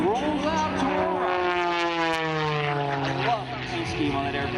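An Extra 300S propeller aerobatic airplane flies at an airshow, its engine drone rising and falling in pitch as it maneuvers, loud and continuous throughout.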